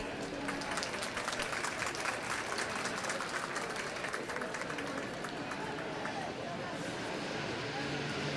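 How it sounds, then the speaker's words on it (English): An audience at a youth livestock show's lamb class applauds in a sustained, even wash of clapping that carries on for several seconds at moderate, slightly distant volume. "Let's give him a big round of applause."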